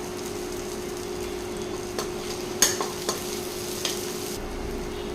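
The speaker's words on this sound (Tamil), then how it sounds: "வெங்காயம் வதங்கட்டும்." Onions frying in oil in a pan, a low steady sizzle under a faint hum, broken by a few spatula knocks and scrapes against the pan, close with no talking.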